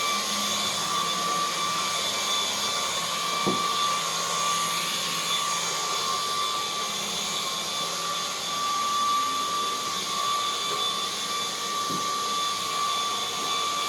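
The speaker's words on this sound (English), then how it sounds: "this is actually a real world test where we have the power nozzle running under load" A battery-powered vacuum cleaner's power nozzle runs under load on medium pile carpet, a loud steady whine with a constant motor hum and a couple of faint bumps, close and unbroken.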